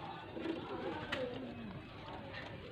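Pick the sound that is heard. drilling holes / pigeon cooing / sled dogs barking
pigeon cooing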